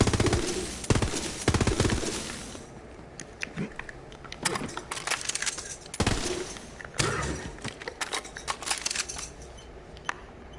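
Borderlands 3 video game gunfire rattles in fast automatic bursts and scattered single shots, loud at the start, then recurring in clustered volleys with brief lulls between.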